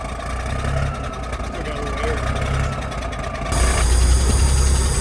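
A diesel engine cranks and catches, then settles into a steady, loud idle that rumbles up close with a deeper, fuller tone once running.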